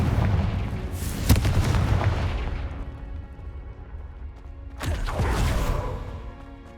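Confringo blast spell bursting in Hogwarts Legacy, two heavy booming explosions with sharp onsets a few seconds apart, each rolling off into a long rumbling decay.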